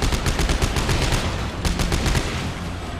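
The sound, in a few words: pistol gunfire in video game Dead Space 3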